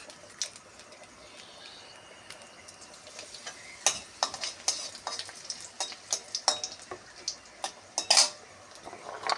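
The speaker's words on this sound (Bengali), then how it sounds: "তেল গরম হয়ে গেছে, কিমা শাক আর আলু চচ্চড়িতে ফোড়ন দেব কালো জিরে" Black cumin seeds and dry red chillies tempering in hot oil for a greens and potato stir-fry, with a soft sizzle under repeated sharp clinks and scrapes of a spoon against the pan.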